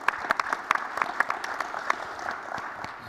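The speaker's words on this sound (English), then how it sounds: "Let's get another round of applause for another demo." Applause from a conference audience after a demo at an enterprise security session, a brief burst of scattered clapping with distinct individual claps that thins out toward the end.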